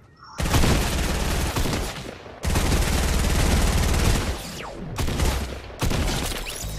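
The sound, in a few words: shotgun gunfire in video game Fortnite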